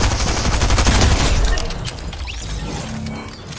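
Loud, rapid gunfire from a video game shooter match fills the first half with a dense crackling volley, then thins into scattered softer shots and ambient game noise.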